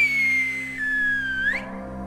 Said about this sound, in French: Au sifflet du vacher, il faut se mettre en marche.